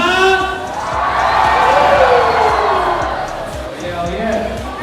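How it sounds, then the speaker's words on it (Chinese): Students at a school event applaud and scream as a performing group returns to the stage, a loud, sustained crowd roar with high shrieks running steadily throughout. "好，那我们用掌声加尖叫欢迎GD524团再度登场。"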